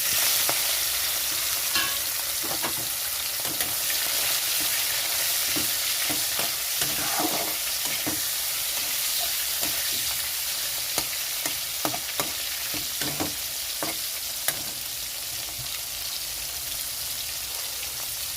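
Prawns frying in a pan with panch phoron, bay leaf and green chillies, a constant close sizzle punctuated by frequent scraping and clacking stirs, with no talk.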